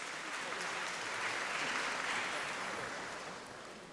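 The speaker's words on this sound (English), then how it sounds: "Another round of applause for the Honorable Premier." Sustained applause from a large audience at a matric results announcement in KwaZulu-Natal, a dense even wash of clapping that swells gently, then fades slightly near the end.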